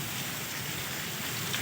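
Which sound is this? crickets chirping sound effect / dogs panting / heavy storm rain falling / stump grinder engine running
heavy storm rain falling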